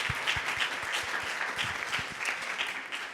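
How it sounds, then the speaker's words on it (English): Conference audience applauds presenters at a forum session: a sustained, even wash of many clapping hands in a hall, moderately loud and steady throughout, with no one speaking. "I want to give a big round of applause to the presenters"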